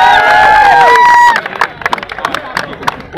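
An audience bursts into clapping at an event for a new car owner. A voice leads in, then scattered claps and crowd noise follow at moderate loudness.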